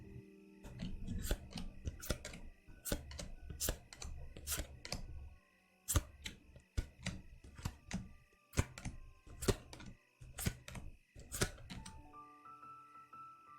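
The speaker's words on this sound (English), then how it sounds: "Each one of us takes turns drawing until we both have 7 cards." Playing cards drawn one at a time from a full deck on a table in a close-up, quiet setting, giving a steady run of crisp snapping flicks and soft slides with short pauses between them, no talking.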